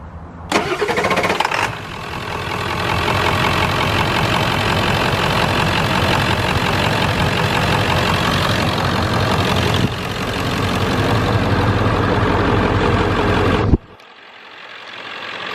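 Ford 7.3 Powerstroke diesel engine in an Excursion cranks briefly and catches, then settles into a loud, steady, rumbling idle close by, ending abruptly.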